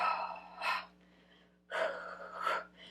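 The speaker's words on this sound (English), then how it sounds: "Keep breathing in and out." Breathing during a home Pilates workout, two sharp, close breaths with a quieter pause between them, heard alone without talk.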